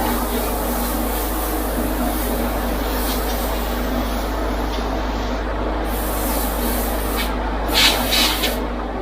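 Etch primer sprayed from a can onto steel parts for a custom e-bike light: a loud, steady hiss running nearly unbroken for several seconds, close by, with a slight swell near the end and no speech.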